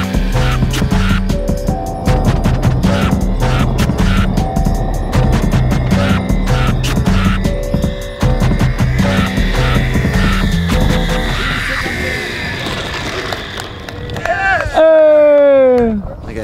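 A hand-held RC model airplane's electric motor runs at full throttle before a carrier-style catapult launch, a loud steady buzzing drone that rises in pitch toward the end and then cuts off with a sharp whine, voices speaking over it.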